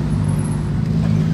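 A Ferrari 812 Competizione with a standard, non-straight-piped exhaust gives a steady low engine rumble, loud and close, brief and continuous, at a Ferrari rally at Le Mans.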